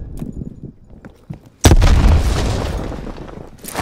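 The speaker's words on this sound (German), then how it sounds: "Granate geht los." A grenade goes off in Call of Duty: Black Ops Cold War, a sudden loud close blast that swells into a long rumbling roar, after a few faint game sounds.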